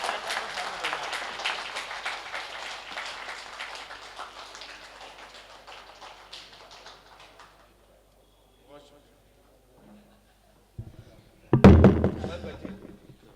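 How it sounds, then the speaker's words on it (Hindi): Audience at an All India Mushaira poetry gathering in Jabalpur applauds, a broad wash of clapping that starts strong and thins out over several seconds, followed by quiet and then a sharp loud burst near the end. "तालियां तो बजा सकते हैं, सब मिलकर"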